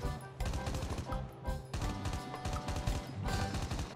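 Rapid automatic gunfire in Call of Duty Mobile on the Alcatraz map, with dense repeated shots in bursts and short breaks near 0.3 and 1.7 seconds, loud and close throughout.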